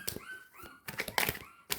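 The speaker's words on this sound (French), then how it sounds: "j'ai des bébés chiens qui sont nés il y a une semaine. Donc, ça couine un petit peu" Week-old puppies squeak and whimper in short, high, thin cries, close and fairly quiet, with a few soft bumps in between.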